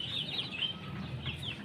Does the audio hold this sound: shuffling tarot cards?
no